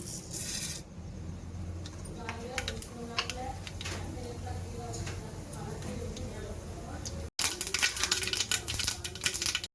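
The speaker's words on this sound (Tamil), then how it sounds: "கடுகு நல்லா பொரிஞ்சிருச்சு." Rapid crackling and popping spatters of mustard seeds bursting in hot oil for coconut chutney, continuous and close, growing louder and denser toward the end.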